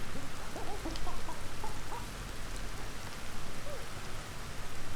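Steady, dense rain and wind hiss through the video game Ancestors, loud and continuous with faint bird chirps scattered underneath.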